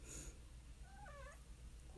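A house cat lets out one short wavering meow in a quiet indoor room, close and soft, with a low background hum and no clear purr.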